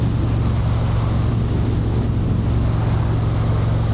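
A motorcycle engine drones steadily while riding, heard from a rider wearing a Shoei Neotec 3 helmet, with a constant low hum and broad rushing wind noise throughout, no voices.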